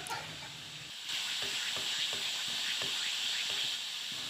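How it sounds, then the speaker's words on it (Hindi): Banana flower frying in a pan, a steady close hiss and sizzle of oil with a few soft stirring clicks and scrapes repeating through it, no voices. "तो इसे जो है ना हम बहुत अच्छी तरह से फ्राई कर लेंगे"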